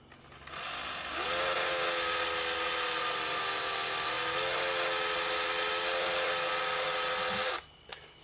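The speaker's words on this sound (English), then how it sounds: "So drill nice and slow so you don't go through into the top." A small power drill with a 1/16 inch bit whines steadily for about six seconds at an even pitch, close to the mic, drilling a small hole, then stops abruptly.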